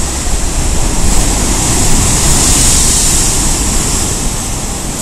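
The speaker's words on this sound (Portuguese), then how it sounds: "Acho que para ali está a arrebentar menos as ondas, para aquele lado." Loud, continuous roar of waves crashing and surging against rocks while fishing on the Lisbon coast, a dense wash of noise with no pauses.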